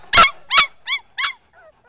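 Six-week-old puppies yip close by in four short, high, separate cries, followed by a faint whimper at the end.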